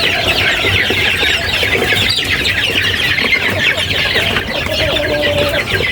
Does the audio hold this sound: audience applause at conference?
no